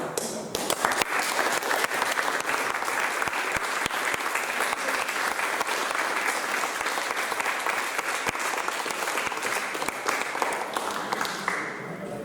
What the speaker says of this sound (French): ils méritent autant un applaudissement